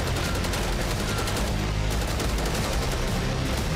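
Dense, sustained gunfire from a Call of Duty Black Ops 6 game trailer rattles without pause, a loud fusillade of rapid automatic bursts filling the whole stretch.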